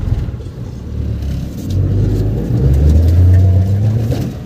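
A car pulls away in first gear up a slope. Its engine hums low and then rises in pitch as it works harder, loud and close, with a steady drone that builds toward the end and no talking.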